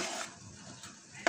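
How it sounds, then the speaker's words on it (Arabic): Gateau chateau batter is stirred quickly in a bowl, giving soft, close swishing and scraping sounds that end in a sharp clink, with no talk. "هديله بس قلبه سريعه كده تقليبه سريعه يعني بالشكل ده"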